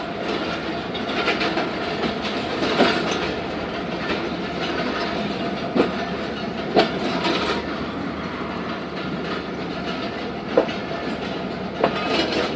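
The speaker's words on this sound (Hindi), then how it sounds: "सुबह के 9:44 पर सादिकाबाद रेलवे स्टेशन अराइवल हुआ है ट्रेन का।" Zakariya Express passenger train rolling into Sadiqabad railway station in the morning, a steady broadband rumble of moving carriages with sharp periodic wheel clicks over rail joints, heard from on board with no talking.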